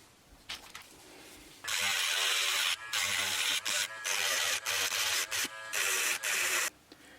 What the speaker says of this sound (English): I'm going to grind some of the bottom off here.